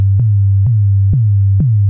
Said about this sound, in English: if we turn that pitch envelope button on here and we bring the pitch envelope amount up